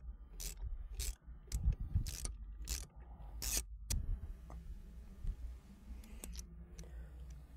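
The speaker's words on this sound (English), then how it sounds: "So you can go ahead and remove these 3 first." Shifter bolts being loosened and removed from a 2011-14 Ford Mustang during a shifter install: a string of ratchet clicks and metallic tool rattles come in short bursts, close and fairly clear, with no speech.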